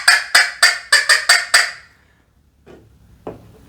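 Hunting squirrel call imitating a squirrel's bark, a quick run of about seven sharp, loud barking chirps, then a pause and a couple of fainter notes.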